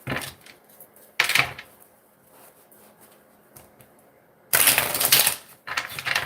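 Tarot cards shuffled by hand in short, crisp bursts of papery riffling, with quiet pauses between the bursts and a final flurry near the end.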